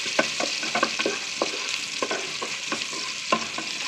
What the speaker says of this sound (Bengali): পেঁয়াজ দিয়ে আমি বেশ কিছুক্ষণ নেড়ে চেড়ে একটু গোলাপি গোলাপি হলে